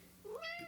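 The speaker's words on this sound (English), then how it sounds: "a pretty little kitty just walking around, just meowing up a storm, just wants to get pet" A house cat gives a single clear, rising meow, close and alone against a quiet room.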